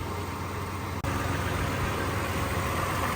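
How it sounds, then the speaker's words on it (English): A 2010-or-later Toyota FJ Cruiser engine idles steadily after an engine wiring harness replacement, a smooth continuous low drone heard close and alone. "All right, so it's idling pretty good. It sounds really strong again"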